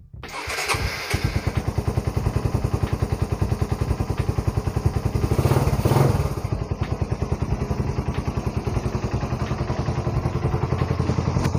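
A Raider 150 motorcycle with freshly adjusted carburetor jetting starts from cold, catching after a brief crank and settling into a loud, fast, even single-cylinder idle putter close by, with a short rev midway.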